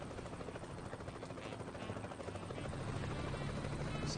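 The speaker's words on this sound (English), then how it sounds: "There's a helicopter landing at this very nice airport." A helicopter lands at an airport in the American Truck Simulator video game, its rotor giving a steady, faint, continuous chopping throb with no talk over it.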